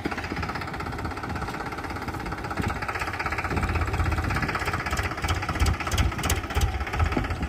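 A farm tractor engine idles steadily, with a continuous low rumble and a rough mechanical vibration that swells a little in loudness partway through. No voices.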